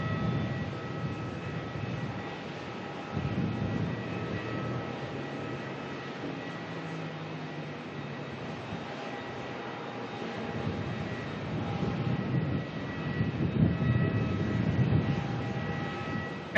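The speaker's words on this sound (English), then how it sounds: "Jetstar 321 coming in from Sydney" A Jetstar Airbus A321 arriving at Melbourne from Sydney, a moderate, steady jet rumble with faint engine whine that swells and eases across the approach, alone without voices.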